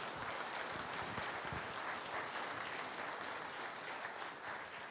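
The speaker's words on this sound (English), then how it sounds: "I'd like to round of applause for our ambassadors" Sustained applause from a large audience at a university open day welcome talk, steady and dense throughout with no voices over it, filling the hall evenly.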